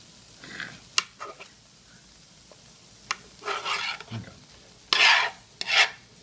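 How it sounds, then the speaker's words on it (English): A knife scraping and cutting through a stick of butter in a pan for Velveeta cheesy potatoes, heard as short rasping strokes in separate bursts with quiet gaps, and one brief spoken word. "Nothing like cutting butter in a pan."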